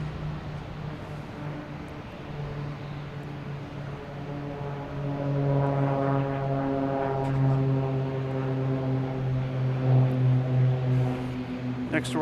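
A Cape Air propeller plane bound for Nantucket passes at Boston Logan Airport, its steady droning engine tone swelling louder midway and holding with harmonic hum, heard outdoors with some faint background talk.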